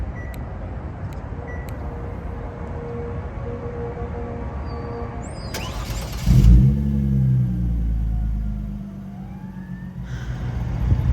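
Hyundai Genesis Coupe (BK1/BK2) fitted with a remote start kit: faint chirps over low idle hum, then the engine cranks and catches with a loud burst, settling into a steady close idle rumble.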